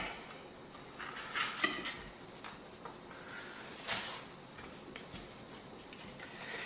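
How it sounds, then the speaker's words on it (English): A knife cuts through steak and peppers on a kitchen counter, giving a few faint clicks and taps of the blade against the board over quiet room noise. "start cutting up this steak and these peppers"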